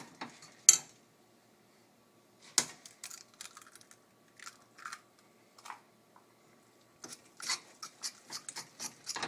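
Scattered soft scraping and tapping of a utensil working egg into spaetzle dough in a bowl, coming in short irregular bursts separated by quiet gaps, close and fairly faint.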